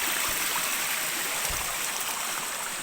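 Constant rushing of a flowing river stream, a close, full, even wash of water with no breaks and no voices.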